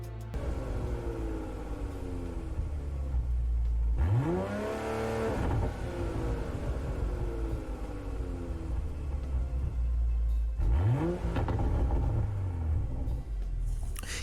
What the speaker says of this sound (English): this is the BMW M3 Sport Evolution